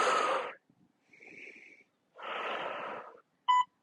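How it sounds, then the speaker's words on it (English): Heavy, effortful breathing during a home core workout with a dumbbell, a few forceful exhales and wheezy inhales close to the microphone, separated by short silent pauses. "And keep breathing."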